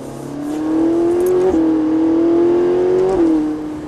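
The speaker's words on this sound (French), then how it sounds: "Et on accélère progressivement." A Ferrari 458 engine revs up steadily on a track, its pitch rising, dipping briefly at a gear change, then climbing again, loud and close.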